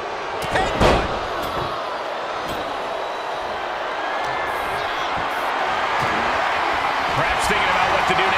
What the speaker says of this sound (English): Oh, put through the table.